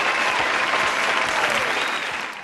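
Dense applause mixed with cheering from a crowd, a steady loud wash of clapping that holds throughout and tapers slightly at the end.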